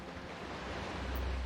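Ocean waves wash onto a beach as a dense, steady roar of surf, with low wind rumble swelling slightly toward the end; no voices.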